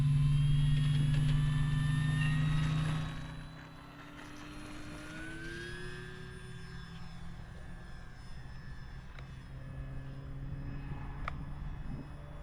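A Blitzrcworks P-40 Warhawk electric RC warplane with an 1100mm wingspan flies on its maiden flight. Its motor gives a steady whine with shifting pitch, loud and close at first, then quieter and more distant as it flies away.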